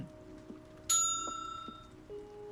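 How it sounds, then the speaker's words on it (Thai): A counter service bell in a mobile and PC game set in a shop gives one bright, ringing ding that rings on and fades, with faint soft game tones around it and no talk. "มิจูรู้กดกริ่งบนโต๊ะนะครับ"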